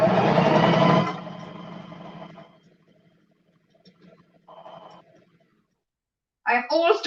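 An industrial sewing machine runs loudly and close for about a second, then winds down into faint, intermittent whirring, and a voice comes in briefly near the end.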